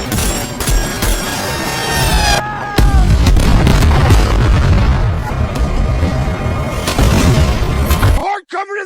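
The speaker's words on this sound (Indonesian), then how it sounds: "Di tengah tembakan gencar dari ratusan drone" Heavy movie gunfire barrage from hundreds of attacking drones, loud sustained bursts of shots and booming impacts with whooshing effects, briefly broken by a gap and ending in sudden quiet.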